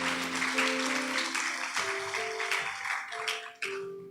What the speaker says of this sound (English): I want us to give our church a round of applause.